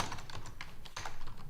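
Rapid, uneven keystrokes on a computer keyboard, close and steady throughout with no talking over them.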